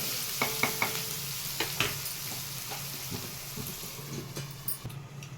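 Onions cooking in a pan on low flame for an egg curry, with a steady sizzle broken by several sharp spatula taps and scrapes against the pan, fairly close and with no talking.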